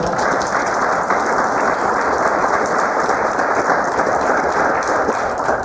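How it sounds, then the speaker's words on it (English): Round of applause from a crowd at an airport hangar groundbreaking ceremony, steady dense clapping throughout, loud and sustained with no pauses. "let's give a quick round of applause for those individuals"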